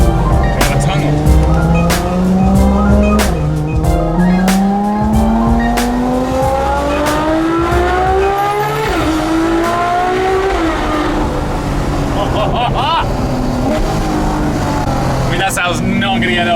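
A Ferrari F12 TDF accelerating hard on a road, its loud high-revving engine climbing through gears in long rising sweeps with brief dips at shifts, close and continuous throughout.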